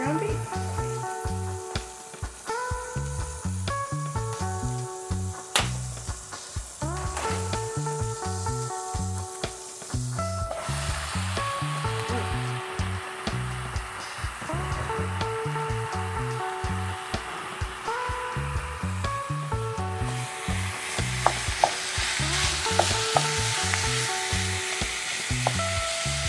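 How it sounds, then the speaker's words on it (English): Ground beef sizzling in a pan for spaghetti meat sauce, a steady loud crackle and hiss, broken by rhythmic scraping and tapping as a utensil stirs and breaks up the meat, with music playing underneath. "Now we will open and drop in our pack of ground beef."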